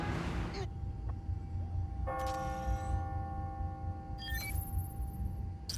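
Tower clock bells ring on the hour in the Spider-Man: Miles Morales video game, two separate tolls with long ringing decay over a low city hum and faint game chatter.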